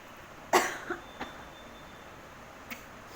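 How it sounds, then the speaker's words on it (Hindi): A person coughs after tasting chili during a sneezing challenge: one sharp cough, then two softer follow-up coughs and a faint later one, quiet and close in an otherwise still room. "छींक तो नहीं है पर खांसी ज़रूर आ गई इसको ट्राई करने से।"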